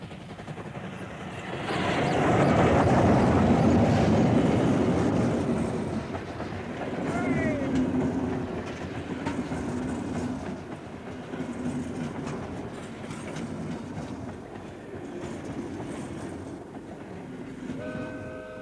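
A narrow gauge steam train runs across a long bridge in South Australia, with a loud rumbling roll and rhythmic clatter swelling then easing, a short whistle, and someone narrating over it.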